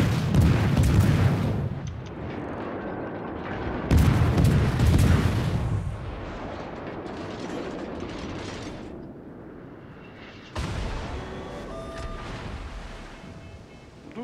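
Heavy artillery shells boom and explode in a naval combat video game, three loud broadband blasts near the start, around four seconds and near eleven seconds, each decaying into a rumbling wash of sea and battle noise.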